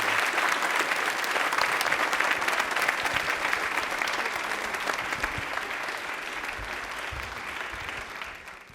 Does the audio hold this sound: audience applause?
yes